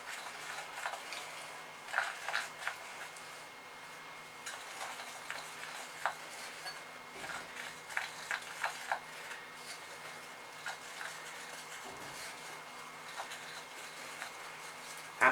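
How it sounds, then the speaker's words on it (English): Cupcake batter from a Bluey cupcake kit being mixed by hand in a bowl, heard as quiet, irregular ticking taps and scrapes of the utensil against the bowl, fairly faint and without talk. "so let's mix it"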